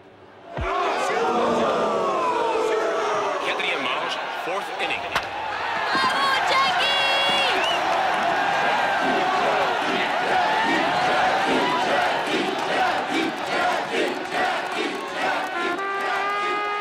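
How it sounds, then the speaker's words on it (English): A baseball crowd in Montreal cheers and roars loudly for a Royals game, a dense sustained wall of voices with whistles and shouts that swells after a sudden start and stays strong throughout. "Record numbers of cheering Montrealers helped Jackie Robinson break baseball's color bar that year."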